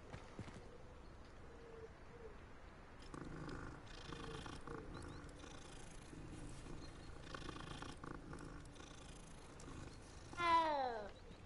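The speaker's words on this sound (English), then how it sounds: "Oh, cat." A cat purrs softly and steadily in Hogwarts Legacy, with a short meow near the end, all over quiet game ambience.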